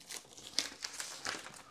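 Flimsy plastic packaging around a TIMCO TOOLS socket set crinkles and crackles during unboxing, with several sharp bursts of crumpling over a couple of seconds, fairly close and with no talking.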